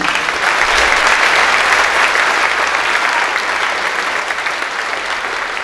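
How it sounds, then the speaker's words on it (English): Sustained applause from a crowd at a high school academic and athletic awards night, honoring the announcer; dense, loud and steady clapping throughout, easing slightly toward the end. "Let's give him a round of applause, please."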